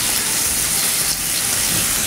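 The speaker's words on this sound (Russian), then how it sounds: "Выкладываем на сковородку." Raw meat laid on a hot frying pan, giving a loud, dense, steady sizzle and hiss that fills the whole moment close up.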